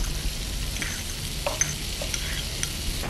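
Onion cubes frying in a pan for chicken Monaco, a steady close sizzle with a few light stirring scrapes, no voices.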